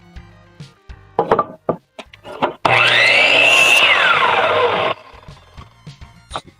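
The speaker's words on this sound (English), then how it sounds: "I could figure that out by doing the dummy cut a little bit into the board to see how wide it is" A power saw cuts a short dummy kerf into a wooden board, a loud whining rip lasting about two seconds between lighter knocks and handling clatter of the workpiece.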